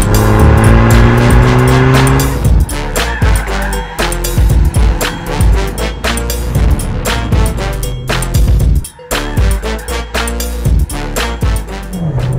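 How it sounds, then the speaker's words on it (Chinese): Heard from inside the cabin, an MG6 with a small-displacement engine revs loudly in Super Sport mode, the engine note rising and falling through gear changes with sharp breaks between pulls. "这台车的车内声浪真的是太棒了，一点都不像是一个非常小排量发动机制造出来的声浪"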